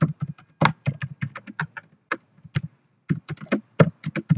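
Rapid irregular bursts of keystrokes on a computer keyboard while Python code is typed, close and clear with short pauses between runs of taps.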